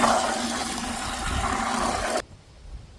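Clay slurry is stirred vigorously in a bucket of water, giving a continuous rushing slosh that cuts off abruptly near the end and leaves near silence.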